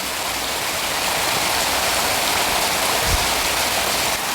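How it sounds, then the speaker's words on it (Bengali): Heavy rain pours down steadily outdoors near a garden with papaya trees, a dense, loud, unbroken roar of drops with no voices. "খুবই বৃষ্টি পড়ছে"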